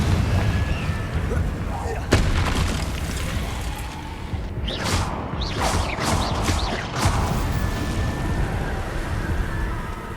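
In the video game Hogwarts Legacy, Confringo blast spells and combat effects boom and whoosh over a dense rumbling background, with a sharp impact near the start and further bursts midway.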